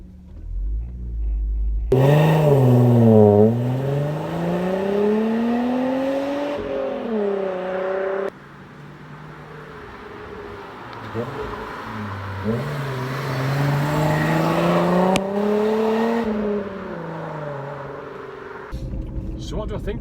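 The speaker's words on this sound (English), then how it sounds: "that noise from the VR6 is sublime." A Volkswagen Golf Mk3 VR6 engine revs hard through rising and falling pitch sweeps, climbing and dropping through gear changes, loud and close with a steady rumble underneath.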